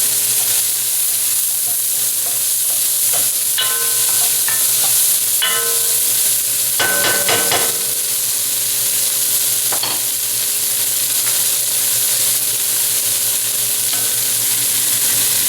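A wooden spoon stirs pot roast in a pan, with steady sizzling and frying throughout and a few scraping, clinking stirs in the middle, close and fairly loud.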